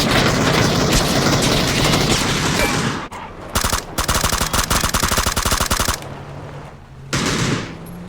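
Loud, rapid automatic gunfire from PlayerUnknown's Battlegrounds rattles in long sustained bursts, broken by brief pauses, then a final shorter burst; no talking.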